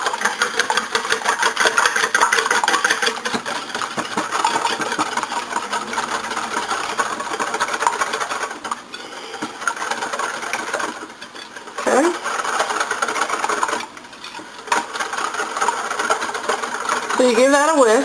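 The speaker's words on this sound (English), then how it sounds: "And you want to give this a whisk." Whisk beating eggs with organic milk in a bowl for a country skillet omelet, a steady, fast, close rattling rhythm that runs almost continuously with a few short pauses.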